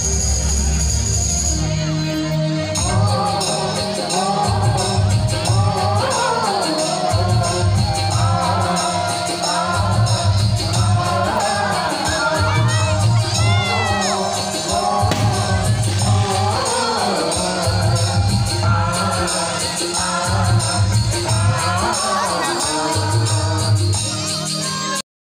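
A dense crowd packed in at a village Dussehra nacha Ramlila performance, a loud continuous wash of voices and festival music with rhythmic drumming throughout.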